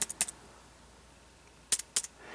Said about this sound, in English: all we have to do is press the number 1 key